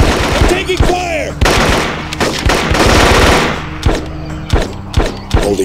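Jungle combat in Marine Sharpshooter 2: Jungle Warfare brings loud, close bursts of rapid automatic gunfire in clattering volleys, mixed with scattered single shots and whizzing rounds.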